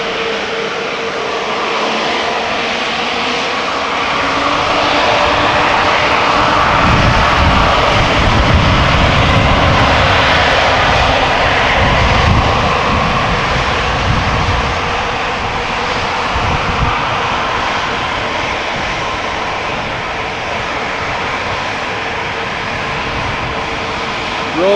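Two-year-old airliner with Rolls-Royce engines at Amsterdam Schiphol: a loud jet engine roar swells and peaks near the middle, then eases into a sustained whine, with some talk faintly underneath.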